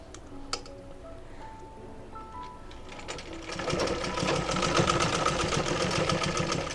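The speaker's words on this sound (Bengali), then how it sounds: "এই সেলাইটা কিন্তু করতে হবে আপনার কাপড়ের মধ্যে" A sewing machine stitches fabric folded over elastic for ladies' pants, starting with a few faint clicks and hums before a steady, loud rapid stitching run takes over for the last few seconds. No one speaks.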